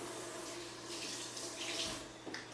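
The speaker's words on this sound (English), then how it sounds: "Sometimes you just give it a rinse to make sure all the little pieces are off." Water runs steadily from a tap as produce is rinsed under it, a continuous close splashing hiss with slight shifts as the flow hits the food.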